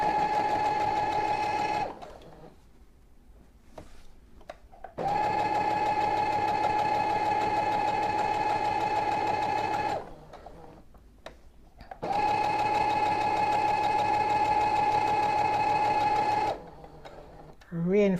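Sewing machine stitching a half-inch seam on a baby pillowcase dress, with three long steady close whirring runs separated by pauses with quiet clicks, under a speaking voice.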